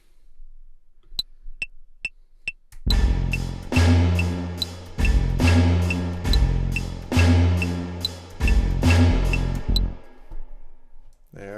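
A synth bass part played on a computer typing keyboard: a few soft key clicks, then a loud, steady run of repeated bass notes with percussive attacks in a regular rhythm, with no talking.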